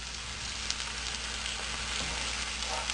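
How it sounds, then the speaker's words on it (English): Tomato puree and ginger garlic paste frying in a kadai for chicken, a steady close sizzle with soft stirring, no voices. "ginger garlic paste, stirring, and after 1 minute now I am adding this tomato puree"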